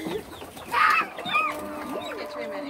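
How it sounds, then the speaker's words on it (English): Chickens and other farm birds kept in a small indoor yard in the countryside, a short burst of clucking and chirping calls near the middle, with a voice talking faintly underneath. "They have chicken, bird, ducks."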